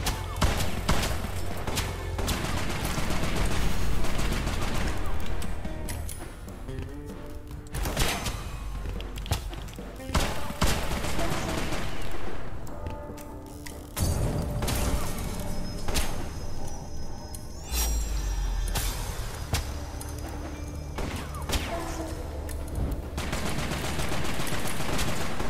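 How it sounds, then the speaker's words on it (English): A shotgun blasts repeatedly in the video game West of Dead, with heavy booming shots layered over constant combat noise, music and impacts, loud and dense throughout. "This shotgun is good."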